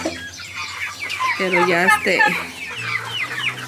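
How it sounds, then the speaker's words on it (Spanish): A hen clucks in a series of short, throaty calls close by, while a person talks briefly in the background. "Se metió una gallina ya."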